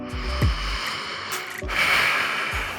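Heavy, audible breaths in and out through the nose during a core workout hold, close to the microphone, with snorting inhales and rushing exhales repeating at a steady pace.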